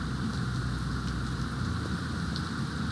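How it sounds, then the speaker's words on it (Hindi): Steady, dense rain hisses continuously, a broad even wash of sound with no voices. "देखिए बहुत तेज़ बारिश हो रही है"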